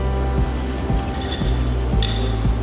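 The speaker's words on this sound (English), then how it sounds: "Then we're gonna whisk it up." A whisk clinking rhythmically against a bowl while a balsamic vinaigrette with shallot and garlic is mixed, sharp regular taps roughly every half second over a low background hum.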